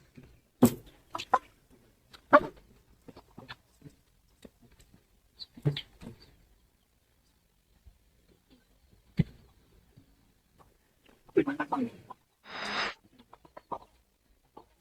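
Freshly released farm chickens give scattered clucks and squawks with quiet gaps between, ending in a louder burst of flapping and calls nearby.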